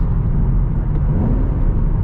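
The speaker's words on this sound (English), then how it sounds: "I'm gonna get off the gas and start dropping gears." Engine of a 2014 Shelby GT500 decelerating off the throttle while downshifting through the gears, a loud, steady low rumble filling the cabin without talk.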